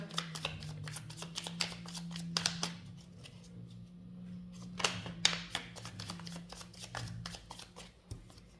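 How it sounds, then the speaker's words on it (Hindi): Tarot cards are shuffled by hand in quick, crisp riffling bursts, with pauses between them and a low steady hum underneath; nobody speaks. "मैं आपके लिए मैं शफलिंग करती हूँ टैरो रीडिंग के लिए"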